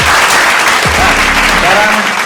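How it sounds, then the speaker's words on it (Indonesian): Audience at a live event bursts into applause, a dense, steady wash of clapping that fills the whole stretch, with a few voices and faint tonal sounds underneath. "Tepuk tangan dulu."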